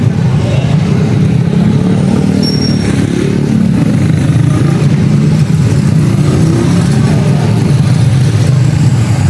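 Road traffic in Manila, with cars and motorcycles passing close by, a loud continuous engine rumble carrying revving and accelerating swells and no clear pauses.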